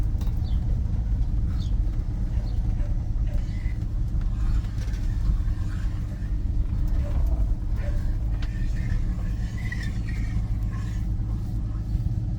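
A 1984 Dodge Ram D100 pickup with a Slant 6 engine drives along, its low rumbling engine and road noise steady throughout, with voices faintly in the cab.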